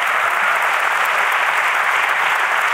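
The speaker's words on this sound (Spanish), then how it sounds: "Aplauso para la ruina de Rodrigo Cortés" An audience gives a short burst of steady, even applause, dense clapping at full volume from start to finish.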